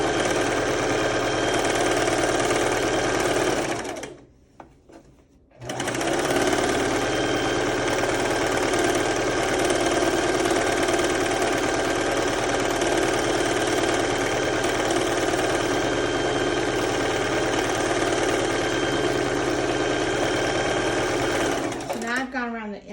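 Fast, steady whirring and rapid needle chatter of a sewing machine running a zigzag stitch along a fabric edge for a scrub cap, loud and close, with one short pause near the start.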